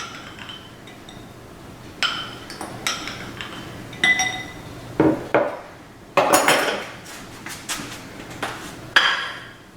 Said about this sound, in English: 2 eggs, large eggs. Mix them up.